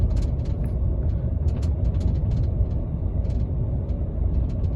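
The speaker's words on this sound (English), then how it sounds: "It is a work truck." A work truck's engine rumbles steadily from inside the cab, a low, continuous drone with scattered light rattles and clicks of equipment shifting above it.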